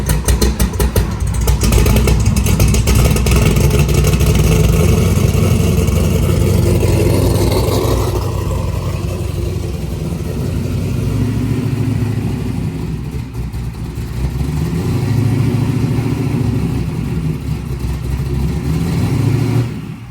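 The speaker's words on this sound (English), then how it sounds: "Maybe I'll put a little video in here of his car getting started." A four-door Chevelle with an LS swap fires up and revs, its loud V8 roaring close by and rising and falling through repeated throttle blips over about twenty seconds, with no voices.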